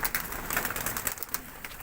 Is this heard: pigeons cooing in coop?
yes